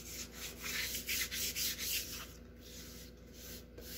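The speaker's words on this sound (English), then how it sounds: "I'm just going to apply very light pressure just to scuff it up." Light scuffing strokes of sandpaper over Rustoleum enamel paint on a guitar body, a series of soft, rhythmic rubbing passes close up, quieter toward the end, with no talking.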